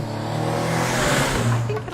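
A 2019 Ford Edge ST performance SUV revs hard, its engine roar and road noise loud and continuous, building to a strained peak, with layered sound over it.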